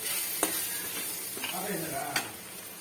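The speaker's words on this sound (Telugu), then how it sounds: "ఒక స్పూన్ అయితే కారము, ఒక స్పూన్ ధనియాల పొడి, కొంచెం గరం మసాలా, కొంచెం పసుపు ఇలా వేసుకొని 1 నిమిషం కలుపుకోవాలండి." A spoon stirs chili powder, coriander powder, garam masala and turmeric in a frying pan for a prawn curry, with a soft continuous sizzle and a few sharp scrapes and taps against the pan.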